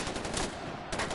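Gunfire in the video game Far Cry 4 crackles in a dense, loud burst of rapid shots over about a second, close and harsh.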